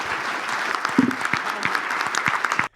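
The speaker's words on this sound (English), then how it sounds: "Let's give all these individuals a huge round of applause." An audience at a leadership summit breaks into sustained applause, a dense, even patter of many hands clapping at moderate loudness before cutting off abruptly.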